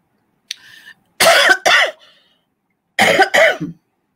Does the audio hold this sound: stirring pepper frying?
no